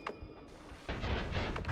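Explosions from thrown flasks in a video game go off as a rumbling burst of noise after a brief quieter moment, filling the rest of the short stretch.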